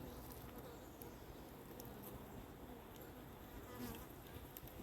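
Honeybees buzz steadily on a hive frame, a dense, even hum close by with no talking over it.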